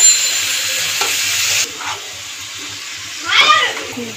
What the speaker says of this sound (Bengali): একটু নাড়াচাড়া দিয়ে ভালো করে মশলা দিয়ে আলুটাকে মিলিয়ে নেব